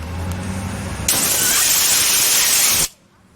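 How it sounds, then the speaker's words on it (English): Spray bottle blasting onto the exhaust of a 1997 Honda Civic during a rusty donut gasket replacement, one loud close hissing burst of about two seconds that cuts off abruptly over an idling engine. "Spray it some more."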